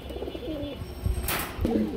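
Pigeons at a crowded pigeon market give a few short, soft coos close by over a busy background of rustling and indistinct noise.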